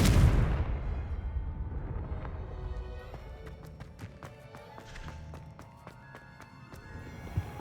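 Bombarda and Confringo spell blasts in Hogwarts Legacy, beginning with a loud booming explosion that fades into a lingering rumble, followed by scattered sharp crackling ticks and small impacts.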